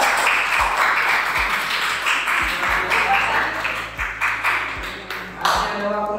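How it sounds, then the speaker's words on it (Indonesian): Classroom applause for a teacher, a burst of clapping from a small group heard over a steady background hum, with occasional taps and thumps. "Tepuk tangan buat Bapak."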